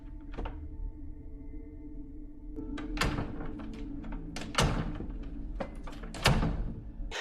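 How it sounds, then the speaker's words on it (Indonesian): Knocks on a door in a film, several sharp wooden thuds spaced a second or more apart over a low rumbling background. "Robert tiba-tiba mengetuk-ngetukkan pintunya 3 kali"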